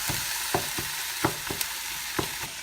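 Ground meat for Filipino ginaling sizzles steadily in a hot pan, broken by sharp, irregular clacks and scrapes as a paddle stabs and stirs it.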